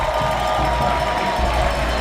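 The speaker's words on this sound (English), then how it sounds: "gets a rousing applause from the Chattahooligans" Stadium crowd at a Chattanooga FC soccer match roars and applauds a substituted player, a steady dense wash of distant cheering and clapping throughout.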